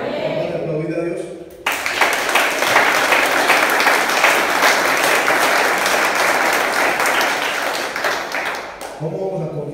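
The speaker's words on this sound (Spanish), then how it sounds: "¿Vamos a aplaudir a Dios?" A church congregation bursts into sustained applause for about seven seconds, broad and steady, with a preacher's voice briefly before and after it.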